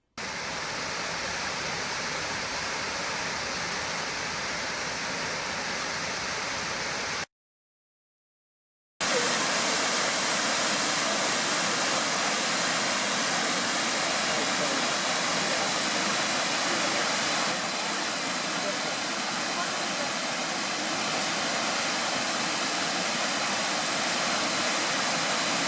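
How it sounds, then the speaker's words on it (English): Miners Falls, a waterfall in Pictured Rocks National Lakeshore, roars as a steady, loud broadband rush of falling water, cut by a brief silent gap early on before the constant torrent resumes. "then a pretty cool waterfall that I hope you enjoy"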